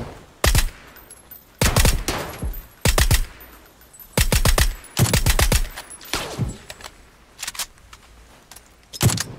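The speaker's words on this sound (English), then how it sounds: "I'm getting shot from northwest" PUBG gunfire in bursts, loud sharp shots from automatic and single fire coming in clustered volleys with short pauses, some crisp and close, others thinner, with no talk over them.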